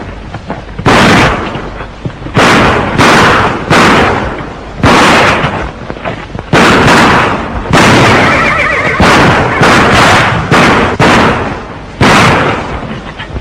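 Gunfire from a 1936 western shootout, a rapid series of loud, booming shots repeated again and again, some of them overlapping, with horses and commotion behind them.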